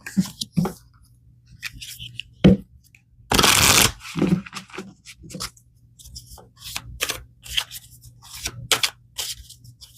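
Tarot cards being shuffled by hand, scattered soft riffles and slides with one loud burst of rapid flapping partway through, close and alone without talk.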